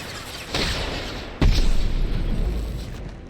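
Over-the-shoulder firefight in Mass Effect 2: a muffled blast followed by a sharp, loud explosion with a rumbling tail, close and without talk.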